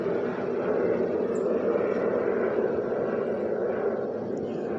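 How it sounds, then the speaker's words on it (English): An airplane passes overhead, a steady broad engine roar holding at even loudness throughout with no voices. "there's a plane"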